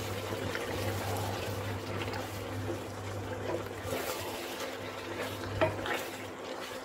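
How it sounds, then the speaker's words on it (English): Ginger and garlic fry in a pan with a steady, soft sizzle and faint crackle, joined by a constant low hum in the background and one small clink near the end. "I want it to fry so the ginger and the garlic can fry together in there."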